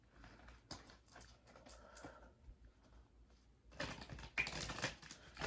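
Soft tarot card handling gives way to a brisk, crisp riffle shuffle near the end, heard at close range in a quiet room.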